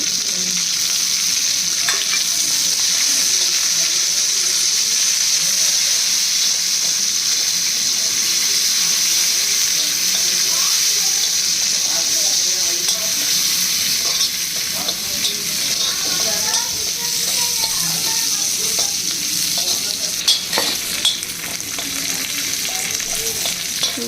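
Curry leaves crackle and sizzle in hot oil for a Hyderabadi street-style chicken mirchi ka salan, a steady loud hiss throughout with scraping stirs and occasional sharp pops, no voices.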